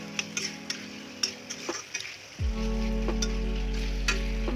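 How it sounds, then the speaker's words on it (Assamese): Chicken pieces frying in a hot pan, a close, steady sizzle that swells loudly partway through as more is added, with occasional clinks and scrapes of a spoon stirring. "এই ধৰণে চিকেনখিনি অকণমান ভাজি ল'ম"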